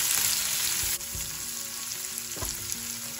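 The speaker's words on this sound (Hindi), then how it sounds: "फिर कैप्सिकम को भी ऐड कर देंगे। अभी इसको अच्छे से फ्राई कर लेंगे।" Diced capsicum frying in a pan for homemade tomato soup, a steady close sizzle with a few soft stirring knocks and scrapes, no voices.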